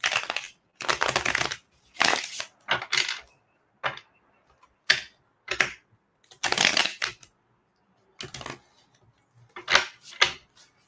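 Tarot cards are shuffled in quick, crisp bursts of riffling, each burst separated by short pauses, close and clear with no talking.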